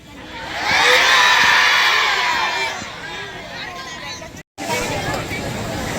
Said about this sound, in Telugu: మీ చీర్స్ చాలా బాగున్నాయి మీ చప్పట్లు బాగున్నాయి